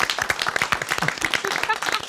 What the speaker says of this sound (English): So applaud Patrick.